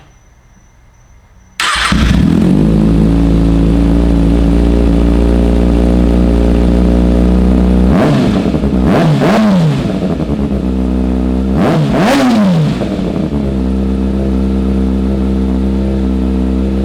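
A motorcycle with an aftermarket M4 Street Slayer exhaust, its baffle removed, fires up and settles into a loud, deep idle, then gets two sharp throttle blips before dropping back to idle, close up.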